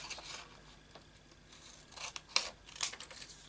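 Paper being cut out with scissors during a quick letter C craft, a few short soft snips and rasps building toward the end, close and fairly quiet, with no talking.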